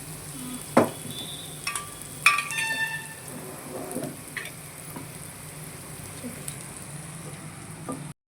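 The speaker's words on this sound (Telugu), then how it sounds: "కరివేపాకు, పచ్చిమిర్చి, ఒక పెద్ద సైజ్ ఆనియన్ వేసుకొని బాగా కలుపుకోవాలి" Curry leaves, green chilies and a large onion sautéing in hot oil with tempering spices for a potato and leafy greens curry, a steady soft sizzle with a few sharp crackles and spoon scrapes early on.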